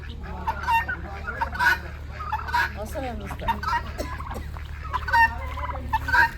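Chickens on a farmland flock cluck and squawk nearby in short, uneven bursts, some calls louder and more honking than others, over a steady low background hum.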